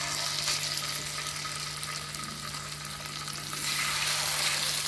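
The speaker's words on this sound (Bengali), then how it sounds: "এক এক করে মাছগুলো তেলের মধ্যে ছেড়ে দেব।" Pomfret fish fries in hot oil in a pan, giving a dense, continuous loud sizzle that swells slightly toward the end, with no talking.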